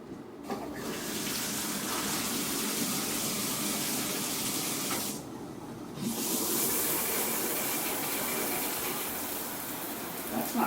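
Shower water gushing steadily from the tap in a bathroom, a loud continuous hiss that cuts out briefly near the middle and then resumes.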